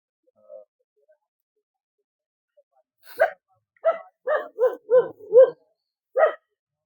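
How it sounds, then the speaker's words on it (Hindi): Dogs kept at a forest hermitage hut in Chitrakoot bark in the quiet. One faint yip comes first, then a run of about six sharp, close barks in quick succession with brief gaps. "यहाँ देखेंगे तो ये कुत्ते हैं महाराज जी पाल के रखे हैं"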